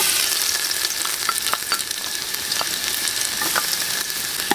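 Ginger and garlic sauté in a hot pan for bulalo soup, giving a bright, dense sizzle up close, with a steady bed of crackle punctuated by scattered sharp pops and light scraping clicks from stirring.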